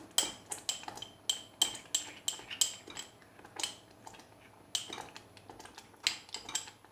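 A spoon stirs cornstarch into a tablespoon of water in a small glass or bowl for carrot cezerye, a quick series of bright clinks and taps against the dish in uneven bursts, fairly close, with no talking.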